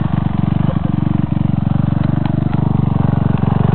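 Motorcycle engine idling on a dirt trail, a steady close, loud low putter with faint clatter and a few light knocks, with no clear talk.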